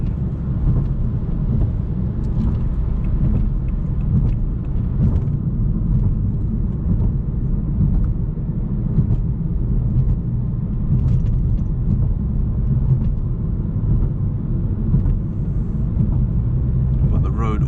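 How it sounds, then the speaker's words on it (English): A Toyota GR Supra's turbocharged engine pulls uphill on an empty Tokyo road at night, a steady, heavy low rumble of engine and road noise filling the cabin without letup. "Turbo kicks in."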